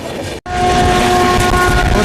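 A special passenger train from New Delhi to Gaya running at speed as it overtakes another train, a loud steady rumble with a sustained tonal hum after a brief dropout near the start.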